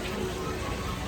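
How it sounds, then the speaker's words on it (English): Steady rain patters at Magic Kingdom, a soft, even hiss of drops on surfaces heard from under a sheltered spot, fairly quiet and continuous. "That's not sweat for once, it's actually rain."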